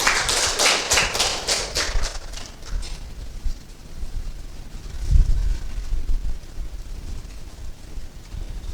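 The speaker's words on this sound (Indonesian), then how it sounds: "Anak-anak beri aplaus untuk teman kalian." Schoolchildren in a classroom clap for a classmate: a quick burst of rhythmic claps in the first few seconds that fades, leaving quiet room noise and a soft thump.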